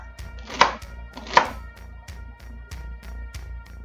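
Knife chopping celery on a cutting board resting on a bowl, a series of close, sharp taps with two louder ringing hits early on, then lighter, evenly spaced chops without talk.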